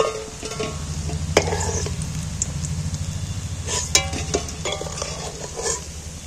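Jackfruit pieces in hot oil give a loud, continuous sizzle with bubbling. A low hum sits underneath, and clinks and scrapes sound as pieces are lifted out with a utensil.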